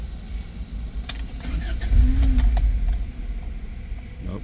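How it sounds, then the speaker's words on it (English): A car engine cranks without catching: after a few faint clicks, a low churning rumble rises for about a second and then settles without the engine firing. Close and moderately quiet, with no talking. "I'm going to fire it up, no gas"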